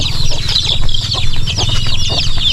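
Chickens and chicks cluck and cheep continuously on a farm, close and fairly loud, with a busy overlapping chorus of clucks and high peeps throughout.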